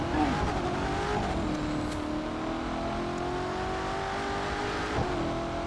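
A Corvette C7 ZR1 engine in The Crew 2 video game drones and revs steadily at close range, with tire noise and a brief spike near the end, and no talking.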